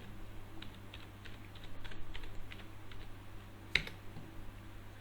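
Quiet typing on a computer keyboard while entering a 12-digit tax registration number, a light, irregular patter of soft keystrokes with one sharper click near the end, set against a steady low background hum.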